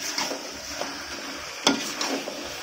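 Pre-fried onions are tipped into biryani masala in a pot and stirred, giving soft scraping and clinking of a spoon over a faint sizzle, with one sharper knock midway.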